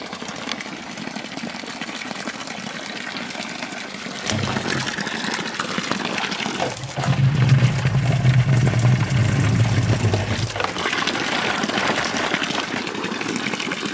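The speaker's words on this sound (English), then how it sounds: "let me fill up these jugs and maybe we'll get that on video" Water from a natural spring pours into jugs, a steady gushing flow that swells louder midway as a jug fills, with a low engine-like drone beneath and no talking.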